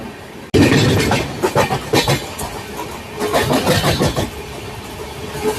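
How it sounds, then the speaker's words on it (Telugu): A Sabarmati WAG-12B locomotive roars past on a busy rail route, bursting in loud after a brief quiet start, with heavy rumbling, rhythmic clattering surges and a steady mechanical drone close by. "Sabarmati wack 12B powerful locomotive"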